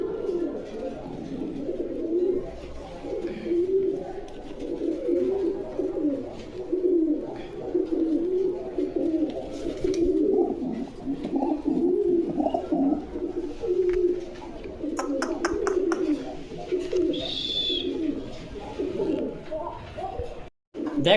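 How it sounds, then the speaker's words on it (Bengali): Lotan fancy pigeons cooing steadily in low, throaty, overlapping calls, close by, with a few faint chirps and someone talking in between. "দেখেন লোটন কবুতর"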